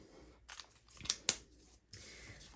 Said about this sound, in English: now those on the scrap paper you want to cut out with your scissors